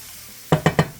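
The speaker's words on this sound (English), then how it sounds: "Let me go ahead and stir this around" Three quick, evenly spaced scrapes of a utensil through a chicken and flour mixture in a hot pan, close and clear after a near-silent start.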